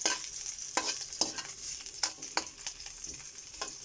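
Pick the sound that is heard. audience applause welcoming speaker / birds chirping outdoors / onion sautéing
onion sautéing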